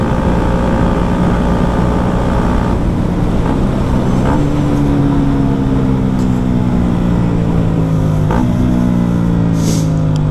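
KTM Duke 125 motorcycle with a small exhaust, roughly 15 hp, its engine running steadily with pitch rises near four and eight seconds that then drop. The sound is continuous and fairly loud, with no talk.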